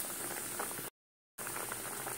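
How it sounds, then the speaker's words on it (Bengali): A vegetarian chhana curry bubbles in a pot, a quiet steady simmering burble close by, broken by a short gap of total silence midway. "দেখো তরকারি ফুটছে"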